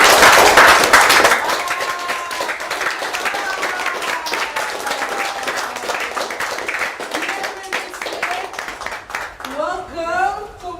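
A small group claps and cheers to welcome a new participant on a Haitian reality show, a burst of applause at the start that thins into scattered claps while people talk and laugh over it.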